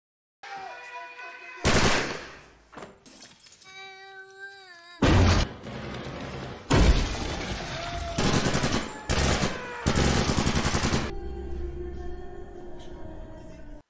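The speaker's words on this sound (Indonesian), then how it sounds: "Semua orang yang mereka temui di jalan ditembak tanpa ampun." Bursts of gunfire from a film scene of US marines shooting civilians in Iraq, with loud volleys and machine-gun-like rapid fire set among musical tones, broken by short quieter gaps.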